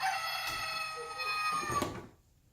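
A recorded chicken gives a single drawn-out crowing call that trails off into silence, clear and fairly close.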